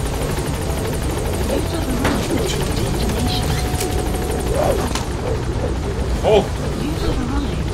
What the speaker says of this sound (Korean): 야, 저 헬기까지 쓸 수 있네.